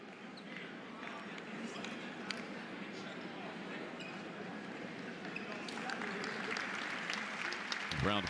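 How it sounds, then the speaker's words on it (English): Spectators at a Lindenwood vs Oklahoma men's college basketball season opener applaud as an injured player is helped to his feet. The clapping is faint and distant under ongoing commentary, swells toward the end and includes a few sharp court sounds. "Round of applause."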